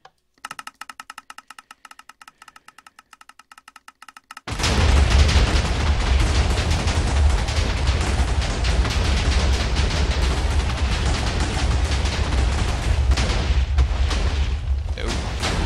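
After a few seconds of quieter clicking and pattering, a rapid-fire TNT cannon in a block-building game opens up into a sustained, dense roar of repeated booming blasts that stays loud and continuous to the end.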